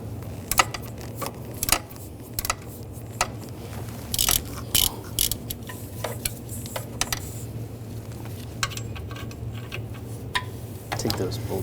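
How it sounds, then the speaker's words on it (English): An E12 socket wrench ratchets on the lower alternator bolts of a 2006-2009 Mercedes-Benz E350, with intermittent clicking bursts and metallic knocks over a low steady hum, and someone talking at times. "I'm going to use an E12 socket. Start with the bottom bolts and take those out."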